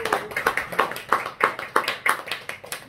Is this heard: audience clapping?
yes